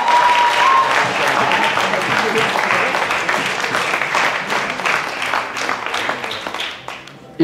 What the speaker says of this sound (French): Vous pouvez également vous applaudir chaleureusement.